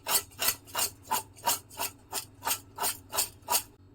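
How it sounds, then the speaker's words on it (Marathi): A spoon scrapes rhythmically through chunks of raw mango pickle in a bowl, about ten even rasping strokes, close and steady, with no talk. "आणि चमच्याने हे वर खाली करून घ्यायचं तर हलवून घ्यायचं"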